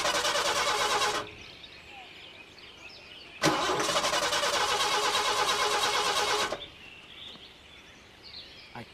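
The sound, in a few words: breakdown vehicle engine starting up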